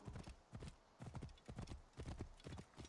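Horse hooves clip-clopping at a steady gallop while riding in the video game Assassin's Creed Origins, a close, rhythmic pattern of repeated beats with no talk over it.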